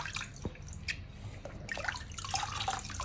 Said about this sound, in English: So I'm going to be putting it in the strainer.